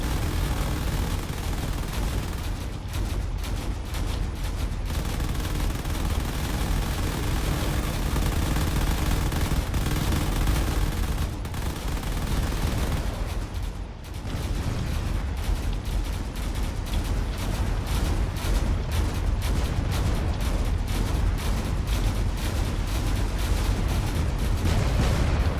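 Cannon fire in a space battle from the video game Drone Wars: continuous rapid, dense shots and blasts over a loud roar, with almost no letup across the whole stretch.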